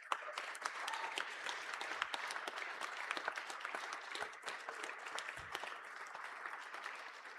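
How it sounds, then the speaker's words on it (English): Conference audience in a large hall applauding the AV crew, steady broadband clapping for several seconds at moderate distance, slightly faint, with a few sharper claps standing out. "I think AV deserves a huge round of applause."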